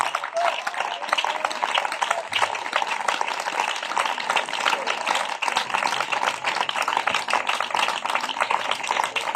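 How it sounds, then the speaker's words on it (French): Congregation applause and acclamation for the king of kings at a French-language church service in a village: dense, continuous clapping mixed with voices, steady and loud throughout. "Est-ce qu'on peut donner des acclamations au roi des rois?"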